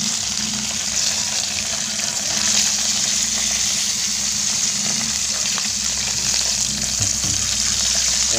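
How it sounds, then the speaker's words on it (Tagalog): Fish, tilapia or gourami, frying in a pan, giving a continuous loud crackling sizzle with steady hiss that stays constant throughout, close up and with no speech over it. "so, pipirituhin natin."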